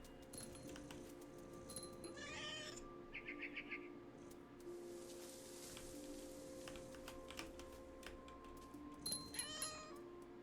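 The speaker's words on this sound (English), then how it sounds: "God, the cat noise is really cute." A cat meows a few times in a video game scene, short, faint calls scattered over quiet ambience with light clicking and tapping sounds.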